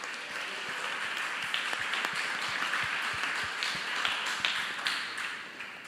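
A church congregation claps loudly and steadily during a sermon, a dense run of sharp overlapping hand claps at moderate distance, with no talk over them.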